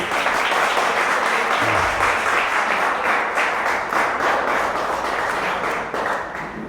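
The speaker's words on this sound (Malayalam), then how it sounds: "ഒന്ന് കൈയടിച്ചേ, ഒന്ന് കൈയടിച്ചേ." An audience at a youth retreat claps together in sustained, dense applause that holds steady for several seconds before easing slightly at the end.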